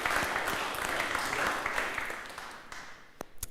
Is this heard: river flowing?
no